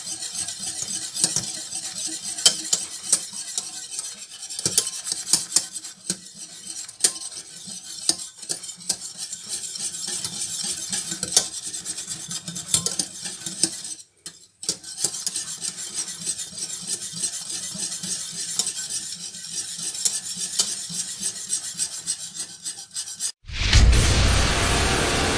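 Mornay sauce stirred steadily as it thickens and comes to a full boil, a continuous rasping scrape of a whisk or spoon against the pan, close and busy, with a brief pause near the middle and an abrupt cut at the end.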